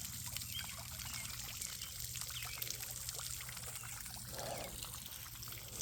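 Water flowing through bored-out holes into a backyard pond, a faint, steady trickling and splashing stream heard from a distance, continuous with no talking.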